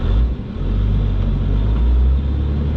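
Hotshot pickup truck engine with an NV5600 manual transmission, a loud, steady low rumble close by with a slight dip and swell in revs as the clutch is worked.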